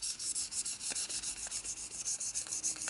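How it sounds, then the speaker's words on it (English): A briar tobacco pipe bowl is sanded by hand with 1200 grit paper, making soft, rhythmic back-and-forth rubbing strokes at a quick, even pace, close and quiet with no speech. "here's some 1200 grit, which is enough for this, and get rid of those little scratches"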